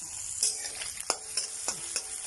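Onion and small green chilli sautéing in a pan for a soybean and green peas kurma: a soft, steady sizzle broken by regular spoon scrapes and taps, close up and without speech.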